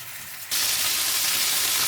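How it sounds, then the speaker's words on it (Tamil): Oil suddenly bursts into a loud, steady sizzle as fish pieces are dropped into the hot pan, the crackling hiss continuing without pause. "இப்போ எடுத்து வச்சுக்கிற மீன் துண்டுகளை பொரிச்சு எடுப்போம்"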